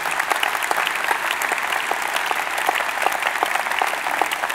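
Applause from a large audience at a New Year's address in a Zénith arena, a dense steady patter of many hands clapping at even loudness throughout, with no voices over it.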